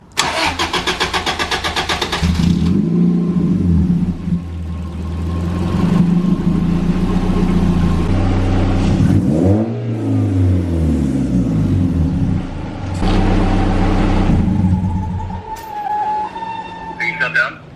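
A Toyota AE86 with a swapped BEAMS engine running steadily at a low, rumbling idle under 2,000 RPM, with a few shifts in pitch and loudness, up close with occasional faint voices.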